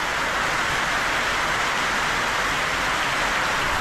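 Steady, dense rain hisses without pause, a loud, even wash of noise with no voices.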